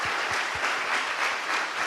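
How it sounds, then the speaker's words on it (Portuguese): A church congregation claps together at a Sunday celebration service, a steady dense wash of applause throughout with no voices above it. "Pode aplaudir o irmão que está do seu lado."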